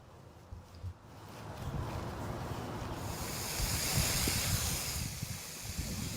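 Sprinkler head spraying water outdoors, a steady hiss of spray that swells and grows louder after the first few seconds, with faint wind and low rumble beneath.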